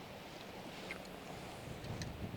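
Strong wind buffets the microphone beside a river while steelhead fishing, a steady low rumbling roar that swells slightly toward the end, with no voices.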